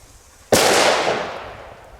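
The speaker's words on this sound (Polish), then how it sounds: "Odpalamy sobie pierwszą petardę, naprawdę fajny, długi zapłon i zobaczymy." An Achtung H1 Gaoo firecracker goes off with one sharp, loud bang after a quiet stretch, then rings out and fades for about a second and a half.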